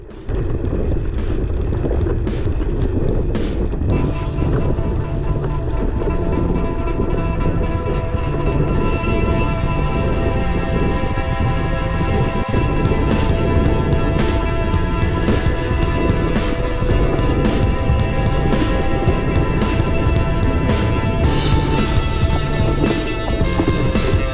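Steady, loud wind roar buffets the microphone during a wet, gravel-road bike ride in the Borderlands, with constant broadband rushing and rumbling throughout and no talking.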